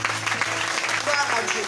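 A church congregation applauding in sustained, dense clapping throughout, moderately loud and close, with a low steady hum underneath.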